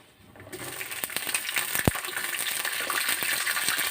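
Ivy gourd pieces frying in oil in a pan, a dense close sizzle that builds after a quiet start, punctuated by a sharp metallic clink and a few spoon taps.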